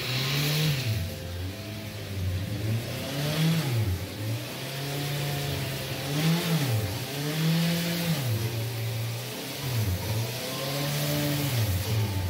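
A Honda CBR650F motorcycle engine is blipped hard over and over, with a loud, close rev rising and falling roughly every two seconds above a steady idle. No one speaks.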